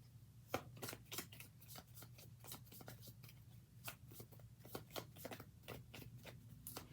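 Oracle cards are shuffled quietly in quick bursts, a dense patter of soft flicks and riffles repeating over several seconds.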